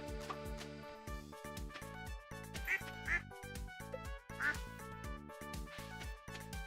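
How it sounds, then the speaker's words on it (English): Duck quacking in the farming video game Stardew Valley, several short quacks scattered over bouncy background game music, clear and moderately loud. "That's the duck."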